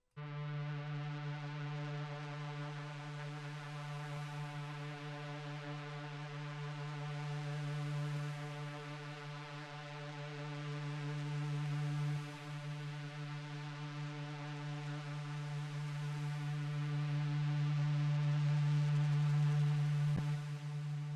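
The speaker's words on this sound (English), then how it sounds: "it's going to just be using that small tone from the sidechain" A steady, sustained electronic sidechain test tone holds for about twenty seconds, rich in harmonics, swelling slightly in loudness, with no voices.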